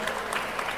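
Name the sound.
applause for Alissa Wahid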